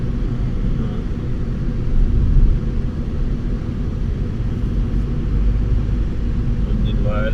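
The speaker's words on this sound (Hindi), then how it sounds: "क्या स्मूथ चला, इंजन ऑयल चेंज कर देने के बाद गाड़ी।" A car cruises smoothly on an expressway after an engine oil change, giving a steady, close, low road and engine rumble throughout while people talk inside the cabin.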